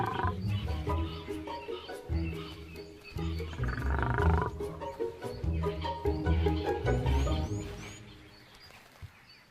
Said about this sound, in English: The lioness is careful of the sudden attention and tries to keep the male at a distance